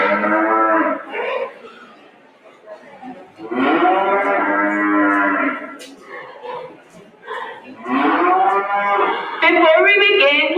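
Cattle at an FFA stock show, in the showmanship ring, let out several loud, long, drawn-out moos close by, separated by short quieter gaps.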